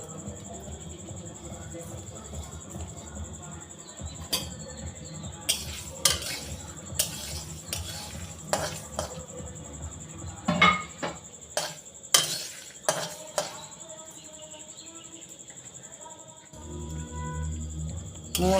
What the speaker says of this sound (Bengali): হালকা করে মশলাগুলো ভেজে নেব